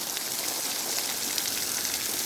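Garden sprinkler spraying water over a vegetable bed planted with red cabbage, a steady, dense hiss of fine spray that stays even and close throughout, with no voices.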